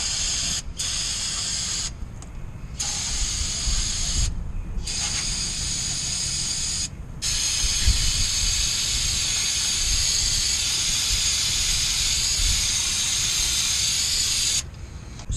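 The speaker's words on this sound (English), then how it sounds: "clean some of this mess up with some brake cleaner before we install our new part" Brake cleaner sprays in long, loud, steady hissing bursts beneath a car during a steering rack replacement, with a few brief pauses between blasts.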